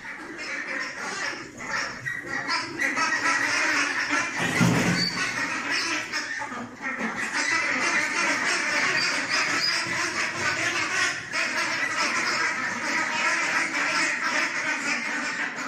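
Ducks raised on azolla on a farm quack in dense, continuous chatter, with calls overlapping throughout at a steady, fairly close level.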